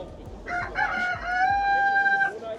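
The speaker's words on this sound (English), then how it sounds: "It's the rooster." A rooster crow sounds from the Bremen Town Musicians manhole cover on a street in Bremen, Germany, a single drawn-out call of a couple of seconds over faint outdoor background noise.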